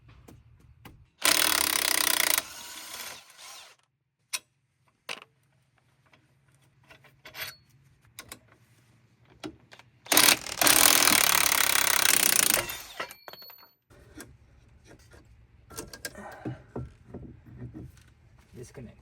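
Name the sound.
removing van strut support bolts with tools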